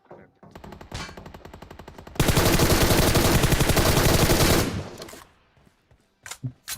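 Gunfire in PUBG Mobile: a few scattered shots, then a loud, sustained rapid burst of automatic fire lasting a couple of seconds, followed by a handful of sparse single shots.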